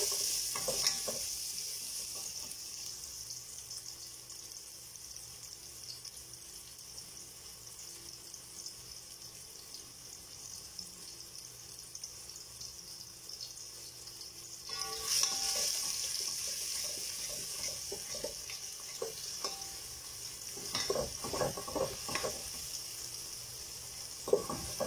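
Onion and garlic sautéing in a pan, a soft, steady sizzle for a while, then louder hissing and intermittent stirring clatter join in partway through, close up with no talking.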